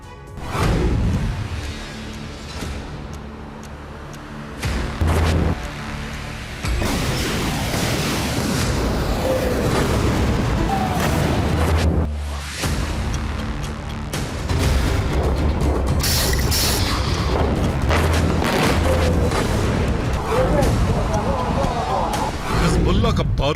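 Heavy booms and rumbling blasts from a Hezbollah rocket attack on Israeli cities roll through a news report, loud and repeated, with a narrator's voice running over much of it.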